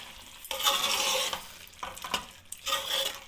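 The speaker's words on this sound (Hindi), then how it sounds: "अब हम इसको हिलाएंगे।" Aloo anda bhujia of potatoes and eggs frying in ghee in a pan, stirred with a spoon in several bursts of scraping and sizzling with short quiet gaps, close and clear with no talk.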